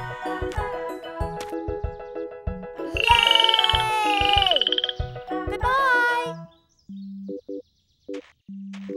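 A little frog in a children's cartoon croaks in short bursts, mixed with bright, chiming, tinkly tones that rise and fall, followed by a few low, evenly spaced blips at the end.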